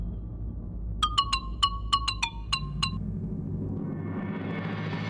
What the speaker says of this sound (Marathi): आता मला कोणाचा फोन.